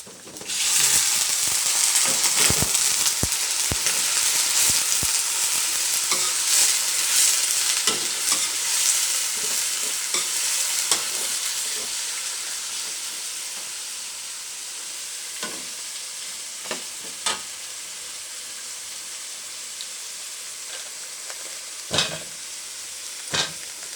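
Chicken is stir-fried in a pot for a Thai chicken curry, with a continuous close oil sizzle and hiss and repeated sharp scrapes and clatters of a spatula stirring. The sizzle gradually quiets toward the end.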